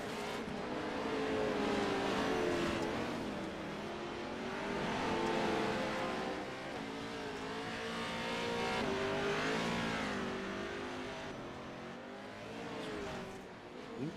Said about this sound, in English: Doing everything he can with this 900 horsepower monster of a truck to sling it on its way home.